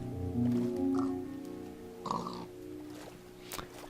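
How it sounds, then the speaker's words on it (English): Pigs in the Minecraft video game give short nasal oinks and grunts, several in a row at a steady close volume over a faint hum of background music. "And pigs, which is the first I've seen of them."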